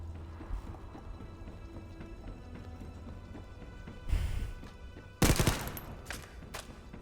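Pistol fire from The First Descendant, heard as a short quiet burst near four seconds, then a louder, sharper cluster of rapid shots around five to six seconds over a faint steady game background.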